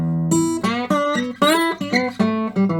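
Slide guitar played in standard tuning delivers a delta blues lick, with gliding notes and a run of separate plucked phrases that ends on short strummed brush-ups. Played solo, close and clear, with no voice.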